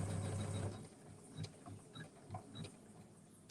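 Embroidery machine doing appliqué work, rated up to roughly 1,200 to 1,500 stitches per minute, with a faint rapid mechanical stitching hum and light ticking clicks, quiet and close with no talk.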